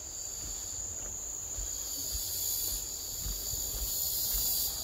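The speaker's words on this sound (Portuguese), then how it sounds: "A cigarra, a cigarra." Cicada buzzes continuously in the bush at Balneário Daniela, Florianópolis, a thin steady high-pitched drone running through the whole stretch over faint outdoor rumble.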